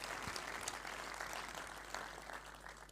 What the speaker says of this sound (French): vous pouvez applaudir toutes les personnalités que j'ai annoncées